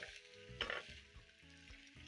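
Beef sizzling and being stirred in a pot for a Kenyan matoke stew, a steady quiet fry with a brief louder scrape of the spoon, no talking.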